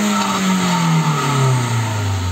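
An engine is revved hard to blow out the exhaust after a Blackcore engine cleaning, a loud, sustained roar with a steadily falling pitch that fills the whole short stretch.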